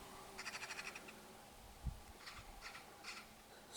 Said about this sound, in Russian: Сороки раскричались везде.